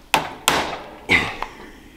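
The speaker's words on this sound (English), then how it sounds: "just get a little hammer." Four sharp metallic hammer taps on a 1933 Cotton motorcycle, two close together, then a pause and two more, the last one lighter, with no talking.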